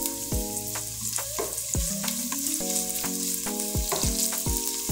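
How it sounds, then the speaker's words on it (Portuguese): Bacon sizzling in a pan without added oil, a steady loud crackle broken by repeated sharp metallic scrapes and knocks of a utensil stirring against the pan. "Vamos fritar um pouco esse bacon."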